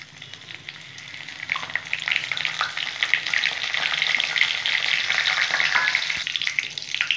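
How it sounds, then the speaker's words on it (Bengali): Whole cumin seeds with bay leaf, dried chilli, cardamom, cinnamon and cloves sizzle and crackle in hot oil, a continuous bright hiss that grows slightly louder, with no talking. "এখন গোটা জিরা ফোড়নে দিয়ে দিলাম"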